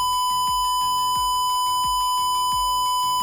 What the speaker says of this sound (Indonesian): jika jaraknya semakin dekat, maka suara yang dihasilkan buzzer itu akan meningkat, akan lebih cepat